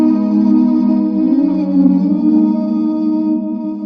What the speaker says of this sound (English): searching for a choir sound in Splice, and this is what it sounds like